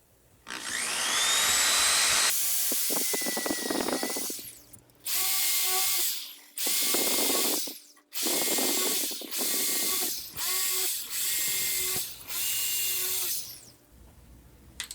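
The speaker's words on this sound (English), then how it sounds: "So we'll first drill a pilot hole." A power drill drilling a pilot hole runs in a long burst, then in a series of shorter bursts with brief pauses between them, close by and loud.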